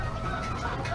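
Thousands of chickens crowded in a packed farm shed make a dense, close chorus of overlapping clucks filling the whole moment.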